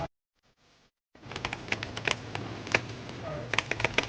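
Rapid, uneven tapping of computer keyboard keys during a fast-paced online game, close and fairly loud, beginning after a brief near-silence and running as a dense, continuous clatter.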